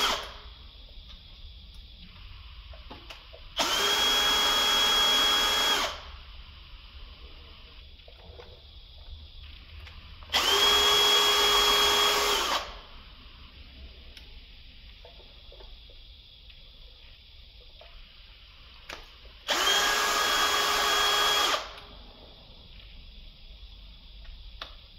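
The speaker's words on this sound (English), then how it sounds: "I'm starting to unscrew the bolts from the cover with a Torx 30 key." Torx 30 bolts being unscrewed from the engine cover of an Audi Q7 3.0 TDI, heard as three separate bursts of loud, steady mechanical tool noise a few seconds each, with quiet gaps between.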